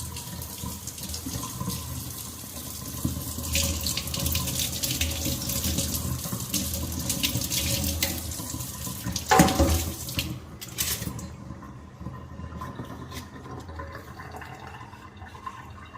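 Tap water runs steadily into a sink or basin to soak cut aloe vera leaves, a continuous close splashing flow that shifts in pitch partway through before easing off toward the end.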